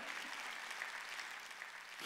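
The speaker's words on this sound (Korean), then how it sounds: "박수 치라." A church congregation at a Sunday worship service claps together in a continuous, fairly distant patter of many hands, even in level throughout.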